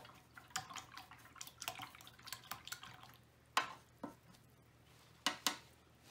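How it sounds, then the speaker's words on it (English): An acrylic paintbrush is swished and tapped in a water cup, giving soft watery sloshes and a few sharper clinks against the container, faint and close, with no talk. "Okay, so I'm gonna rinse my brush out."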